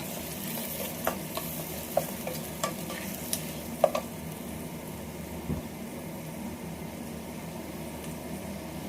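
Curry leaves and chilies hit hot oil for a jeera rice tempering, giving a quiet steady sizzle with a few sharp spits and crackles scattered through the first half, then low frying hiss.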